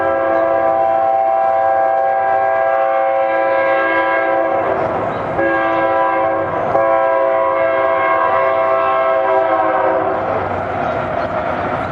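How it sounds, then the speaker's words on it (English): A train passes with its horn blaring in long, sustained blasts that rise and fall, loud and close over the rumble of the rail cars throughout. "We're gonna wait for that train."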